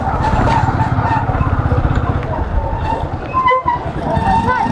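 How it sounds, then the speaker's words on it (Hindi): Motorcycle engine sputtering and pulsing while riding on a highway, loud and continuous with a steady rapid rumble throughout. "बाइक बहुत पुंपू कर रही है"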